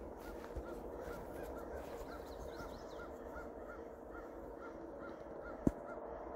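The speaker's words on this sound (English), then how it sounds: "You can hear how mad the crows are." Crows caw angrily in a rhythmic series of harsh calls, moderately distant over a steady outdoor background hum, with one sharp knock near the end and no voices.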